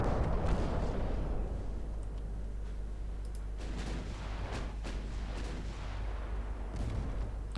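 A destroyer's 5-inch guns fire in Ultimate Admiral Dreadnoughts as a series of deep, booming reports over a continuous low rumble, with several distinct shots spaced a second or so apart.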